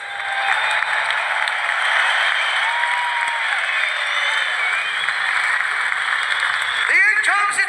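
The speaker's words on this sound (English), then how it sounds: "round of applause for these two world-class warriors" Arena crowd applauding after the Lomachenko vs Kambosos Jr. IBF world title boxing fight, a sustained roar of distant clapping and cheering, with a brief whistle or squeal near the end.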